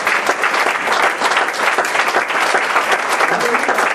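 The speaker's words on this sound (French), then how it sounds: "Est-ce qu'on peut acclamer pour le Seigneur?" A church congregation claps for the Lord, dense sustained applause from a crowd filling the whole stretch, loud and close with no pause.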